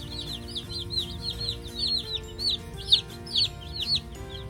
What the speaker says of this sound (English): And we have some happy and healthy chicks.